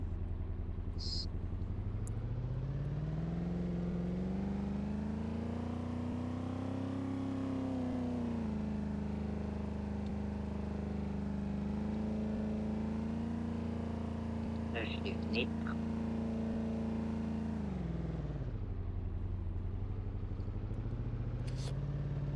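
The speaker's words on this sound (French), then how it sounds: "Ah, j'entends ta voiture." A car engine in the Roblox-style game Giant Mansion Tycoon drones steadily under French chatter, its pitch climbing, holding high for several seconds, then dropping back to a lower idle near the end.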